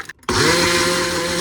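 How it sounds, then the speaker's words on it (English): A small bullet blender starts abruptly after a brief pause and runs at a loud, steady high-speed whine with a constant motor drone. "Every time the dog knows I'm about to use the blender"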